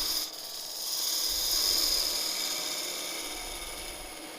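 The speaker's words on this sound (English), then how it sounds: "Take my spindle gouge, I'll face off this surface." A spindle gouge facing off a spinning wooden top on a lathe, giving a steady close hiss and rasp of cutting that swells and holds for a few seconds, with no talk.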